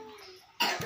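A child gives a sudden, harsh cough at close range after a quiet stretch, one short burst with a second smaller push, during a night of coughing linked to a cold and a scratchy throat.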